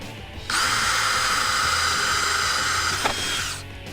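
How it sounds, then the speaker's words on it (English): Power drill with a 1/4 inch bit drilling out a plastic panel clip on a Jeep Wrangler JK during a front bumper install, one steady, loud, close whine lasting about three seconds with a brief bump near the end before it stops. "we're going to resort to a 1/4 inch drill bit and drill the center of them out"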